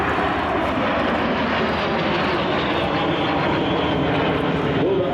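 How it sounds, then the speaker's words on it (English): Jet aircraft flying past in formation during an American Eagle demonstration at the Warbirds Over Wanaka air show, a loud, continuous roar that fills the whole stretch and never fades. "opens the American Eagle jet demonstration with a type formation passing review from the left"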